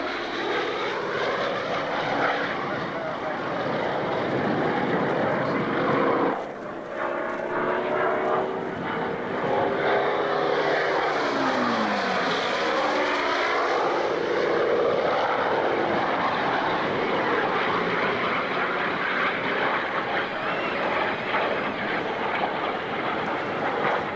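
A loud, steady aircraft engine drone runs for the whole stretch, with propeller-like tones that rise and fall as the plane passes close by.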